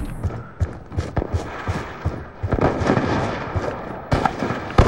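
Sniper fire in Call of Duty Black Ops 2 pops and cracks in a scattered series of sharp shots, some close and loud, others fainter, over a busy battle background.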